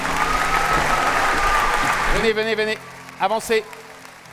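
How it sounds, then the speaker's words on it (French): Audience applause for young filmmakers at a film-awards ceremony in the Grand Rex cinema, a dense steady clapping that fades around the two-second mark as a host's voice calls people forward. "Bravo, on peut les applaudir."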